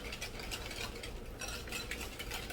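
Banana pudding mixture with vanilla being stirred in a warming pan, a soft continuous swishing and scraping close by, quiet and steady throughout.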